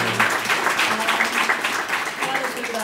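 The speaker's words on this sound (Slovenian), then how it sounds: "Moje se zaslužijo en aplavz" An audience gives a round of applause at an exhibition event, a steady wash of clapping that runs throughout.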